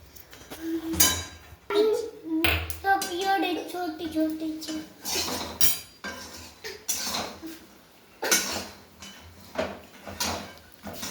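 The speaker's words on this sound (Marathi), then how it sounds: "आपण हा गूळ फोडून घेणार आहोत." A block of jaggery being broken apart in a home kitchen, with a series of sharp, hard knocks and cracks spaced irregularly across the clip, close and fairly loud, interleaved with someone talking.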